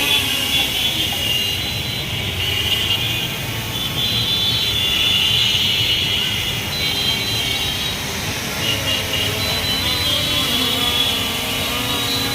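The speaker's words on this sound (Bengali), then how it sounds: "আমি ড্রোনটাকে একটু উপর উঠাই" An F11s 4K drone climbing upward, giving off a loud steady whirring buzz with a high propeller whine that holds for the whole stretch and rises and falls a little, heard alone.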